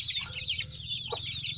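Chickens clucking and chattering while being fed in the evening, several birds close by making rapid overlapping calls above a low background hum.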